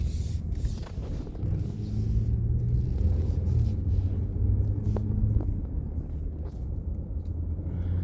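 A car driving along a rural two-lane road, New Hope Road, giving a steady low rumble of engine and tyres from inside the vehicle for the whole stretch, with no talk.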